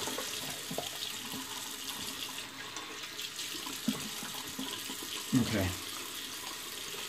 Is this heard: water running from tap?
yes